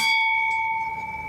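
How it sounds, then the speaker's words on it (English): A metal bell is struck once, ringing with a clear, sustained tone that decays slowly over a quiet background. "I'm going to ring the bell."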